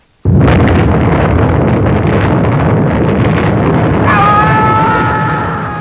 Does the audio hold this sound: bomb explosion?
yes